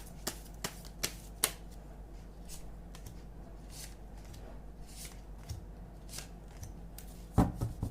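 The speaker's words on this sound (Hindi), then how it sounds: "तो मैं करियर के 4 कार्ड्स निकाल रही हूँ।" Tarot cards being handled and drawn, with a few sharp flicks and snaps at the start and a soft shuffling rustle after, close and fairly quiet, with a louder clatter near the end.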